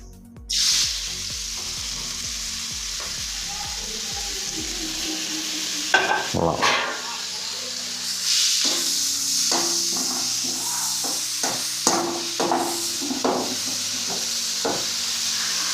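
Onion, ginger, green chilli and curry leaves hit hot coconut oil with a sudden loud sizzle, then keep frying under repeated clattering stirs of a spoon against the pan.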